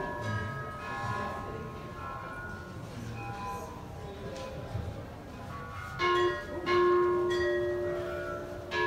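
Ancient 2,500-year-old Chinese bells woven into a music piece, with struck tones ringing out and sustaining over a soft textured background, a few brighter strikes toward the end.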